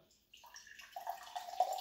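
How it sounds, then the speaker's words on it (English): Mango fruit punch tea is poured from close by into a cup, a quiet trickle that rises into a steadier splash as the liquid builds. "let's pour some of this out, and let's see what mango fruit punch is all about"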